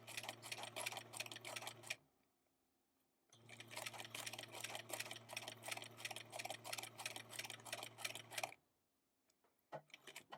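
A sewing machine edge stitching fabric for an Edwardian placket, running close in two fast, steady rhythmic bursts separated by a pause, followed by a few brief clicks.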